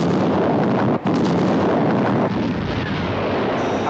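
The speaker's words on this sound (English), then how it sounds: "Visual contact with explosion." Missile detonation heard as a loud, sustained explosive roar filling the whole clip, with one brief dip partway through, no voices present.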